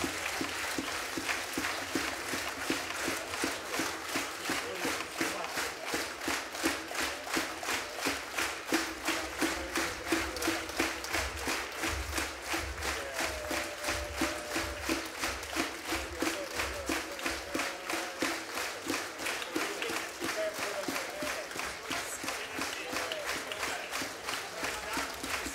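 An audience at an orchestra concert of folk instruments claps in sustained, even applause for the whole stretch, a dense rhythmic patter that stays steady and loud throughout.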